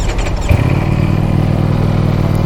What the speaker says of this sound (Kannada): ವಾಹ್, ಎಕ್ಸಾಸ್ಟು ಇಲ್ಲಿದೆ ನೋಡಿ. ಎಕ್ಸಾಸ್ಟು ಹೇಗಿದೆ.